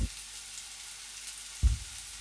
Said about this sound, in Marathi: लसूण सुद्धा छान आपल्याला गुलाबी रंग येईपर्यंत परतून घ्यायचा